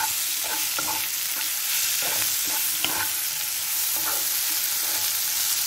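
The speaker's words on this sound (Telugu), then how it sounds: "ఇప్పుడు నేను టమాటా వేసేసుకుంటున్నాను." Tomatoes fry with drumstick leaves in a pan, giving a constant loud sizzle broken by several soft scraping stirs at an uneven rhythm.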